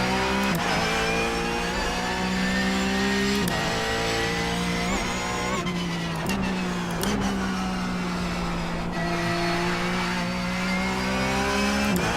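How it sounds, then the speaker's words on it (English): A Porsche GT3 Cup race car engine in the iRacing sim revs up and down through repeated gear changes, with a high gearbox whine rising over the roar, loud and unbroken. "Also the winding of the gearbox as well."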